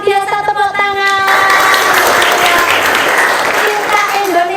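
Classroom applause during a teaching practice lesson, a loud dense burst of clapping from students that follows a short stretch of voices and continues steadily to the end.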